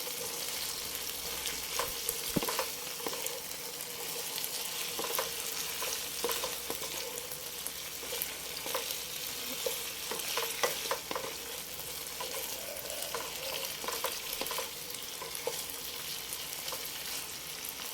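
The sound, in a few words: stirring salted chicken wings in a pan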